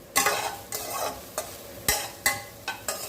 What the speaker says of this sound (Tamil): இந்த பக்கம் நான் வெறும் கடாயில் தான் வதக்குறேன்